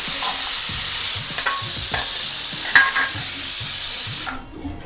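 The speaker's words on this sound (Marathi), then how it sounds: "ह्याच्यातच आपलं खोबरं पण भाजून घेऊया." Grated coconut roasting in a hot pan for a spicy village-style mutton curry gives a steady, close sizzle, broken by regular scraping strokes of stirring before it cuts off near the end.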